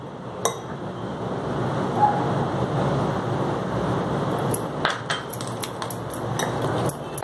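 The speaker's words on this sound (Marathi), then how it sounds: "एकत्र घोटून घ्यायचं" A spoon works a thick batter of semolina and ripe banana in a kitchen bowl, making a steady, dense scraping churn with occasional light clinks against the bowl that grow more frequent toward the end.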